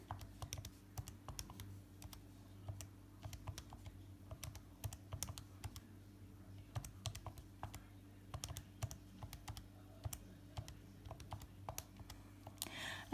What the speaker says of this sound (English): So now the only thing left to do is just plug all that in on your calculator.